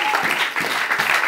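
Church congregation applauding Jesus, dense sustained clapping close and loud with rhythmic pulses, voices mixed in beneath.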